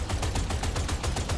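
Hip-fired automatic gunfire in the shooter game Deadzone: Rogue, a loud, steady stream of rapid shots with an even rhythm and no voices.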